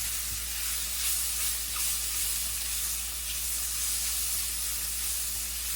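Elk stroganoff sauce cooks in a pan, producing a steady, even hiss and sizzle that runs without a break throughout, close by and with no talk.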